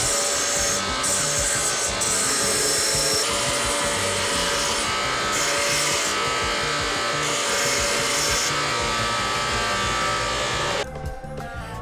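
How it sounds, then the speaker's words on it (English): Continuous abrasive whirr of a power sander smoothing the corners and shape of a wooden tabletop smoker, loud and steady for about eleven seconds before cutting out near the end, with no talking. "I'll clean up the shape and smooth out the corners here on the sander."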